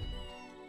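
A cat meows once in the farming video game Story of Seasons: A Wonderful Life, a short soft mew heard alone without talk.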